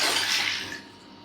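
Water is poured into a bowl in a short, bright splashing stream that tapers off and fades to quiet within about a second.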